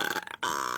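A single loud burp from a woman, brought on by a fizzy drink, rising briefly and breaking off before a second short belch follows close and clear.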